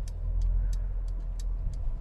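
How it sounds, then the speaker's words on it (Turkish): Turn signal of a Mercedes-Benz GLB ticking in a quiet, regular rhythm, about six crisp clicks over a low idle hum inside the cabin. "Sinyalimi verip hareket ediyorum."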